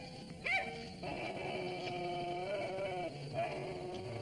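A small dog on a TV show gives a few short yaps and whimpery cries over a steady background hum, with one brief louder call near the start and softer ones later.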